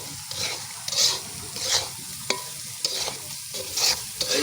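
Chicken masala being stirred and fried in a pan, a sizzling base broken by repeated scraping strokes of a spoon, close and fairly loud, with no talking.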